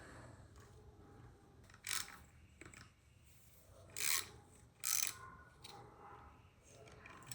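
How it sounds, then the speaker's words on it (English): Screws are worked back into a car part with a scraping, rasping sound, with a few short, sharp bursts standing out over quiet background noise and no talk. "I'll shove these screws back in it"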